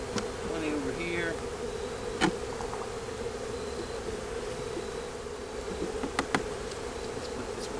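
Honey bees buzz around an open hive during an inspection for a queenless colony, a steady, moderate hum with a few individual bees droning close by and some clicks and taps of handling.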